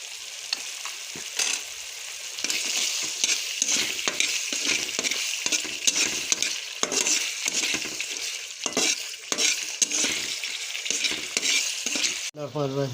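Ginger, garlic and green chili paste sizzles and fries in a pot, with steady crackling and occasional stirring scrapes throughout, loud and close with no talking.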